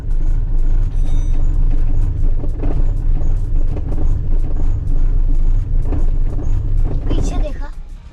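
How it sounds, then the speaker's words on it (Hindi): A Tata Vista diesel car engine with a misfire runs nearby with an uneven, thudding knock under a steady rumble, while someone talks over it. "धक धक धक टाइप मिसिंग कर रही है।"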